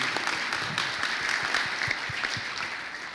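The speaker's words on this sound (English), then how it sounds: "please give our panelists a round of applause" Panelists at an education rights conference session in Albuquerque receive a round of audience applause: dense, steady clapping from a seated crowd that holds at an even level throughout, with no talking over it.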